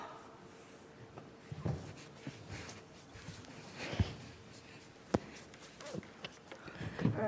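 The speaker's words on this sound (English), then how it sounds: "such a good little dog." A dog whimpers and yips on stage during a school musical performance, short soft whines scattered between shuffling footsteps and faint stage noise.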